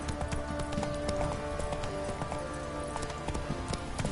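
Roach the horse gallops in The Witcher 3, fast rhythmic hoofbeats pounding steadily and close for the whole stretch, with no talk over them.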